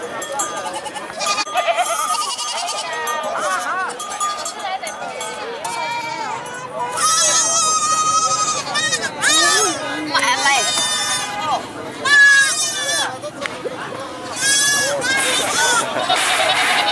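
Goats bleat repeatedly at the Cốc Ly livestock market in Lào Cai, with many loud, overlapping wavering cries up close, mixed with crowd chatter and people talking.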